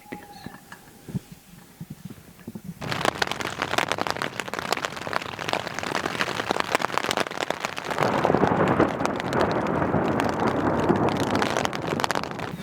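Heavy rain pours at night on a forest campsite along a Turkish hiking trail, a dense steady hiss that starts abruptly after a quiet opening and swells louder near the end, close and continuous.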